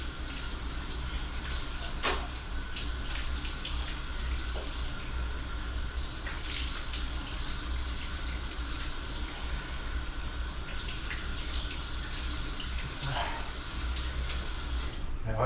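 Tap water runs steadily into a sink while a face is washed, a continuous close hiss with occasional splashes and brief bumps throughout.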